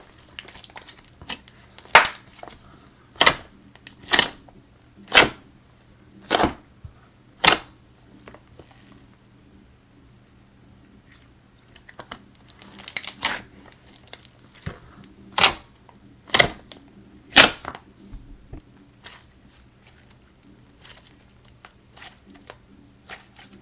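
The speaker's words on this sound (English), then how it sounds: "It has great bubble pops as well. It's very, very clicky. The thwocks are amazing." Slime squished by hand, giving crisp, clicky bubble pops that come in short bursts of sharp snaps with quiet gaps between, close up and with no talking.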